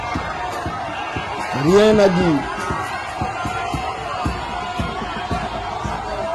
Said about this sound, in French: Voilà la foule.